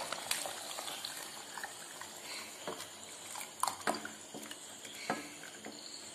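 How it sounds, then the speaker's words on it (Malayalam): Jackfruit payasam with jaggery and coconut milk bubbles in a pot, a soft continuous simmer with gentle gurgles and a few sharper pops standing out, close and fairly quiet. "ഇപ്പോൾ ശർക്കരയ്ക്കകത്ത് ചേർന്ന് ചക്ക പഴം തിളച്ചു ഇനിയും രണ്ടാം പാലും മൂന്നാം പാലും ഒഴിക്കുകയാണ്"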